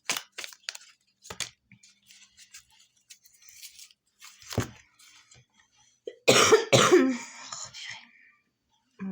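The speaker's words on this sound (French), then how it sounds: "désolée pour la toux" A woman coughs and clears her throat several times in short bursts, with a louder cluster of coughs near the end, close up between quiet stretches of speech.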